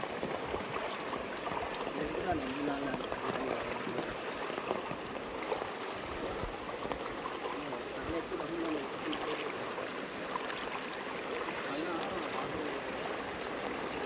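Steady rushing water from a rising river near a bridge flows continuously, a broad churning wash, constant and fairly close throughout.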